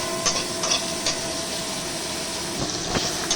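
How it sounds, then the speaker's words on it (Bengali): Potatoes frying in a pan, a steady, moderate sizzle with occasional soft clicks and stirring scrapes, heard close and alone with no talking. "আলুটা ভাজা হচ্ছে"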